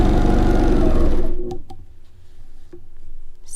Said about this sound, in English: that's where our needle is going to stitch